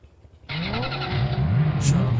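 A police car's engine revs in the Spintires MudRunner off-road driving game, starting abruptly and holding a loud, rising drone with a brief high squeal near the end.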